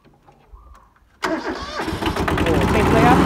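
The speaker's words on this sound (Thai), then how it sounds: "นี่ครับเอาติดเครื่องให้ดู" A Kubota B7000 tractor engine cranks briefly, then catches and settles into a steady, close diesel idle, with someone talking quietly before it starts.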